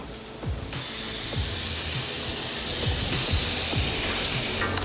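A teaspoon of garlic drops into hot butter in a pan at low heat, setting off a sudden, loud, steady sizzling hiss that holds evenly for several seconds with a few soft knocks beneath it.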